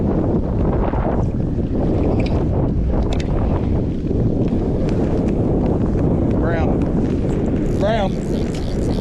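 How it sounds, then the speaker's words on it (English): Strong wind roars and buffets the microphone nonstop outdoors on a winter trout-fishing trip, a dense low rumble that covers everything, with faint voices briefly showing through near the end. "I've never fished with the wind this bad."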